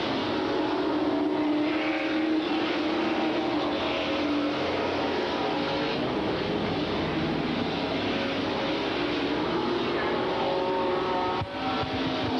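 Super stock race cars run at speed on an oval track, a continuous dense engine roar from several cars, steady and fairly distant, with no clear voices.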